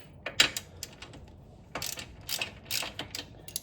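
A ratchet with a 13 mm socket breaks bolts loose during sway bar work on an Audi RS5, giving quiet, close bursts of rapid clicking separated by short pauses.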